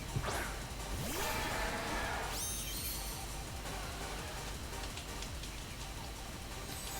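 Rain weather effect from a Pokémon Scarlet/Violet battle: a dense, steady hiss of pouring rain with a couple of whooshing swishes near the start, loud and continuous with no talk.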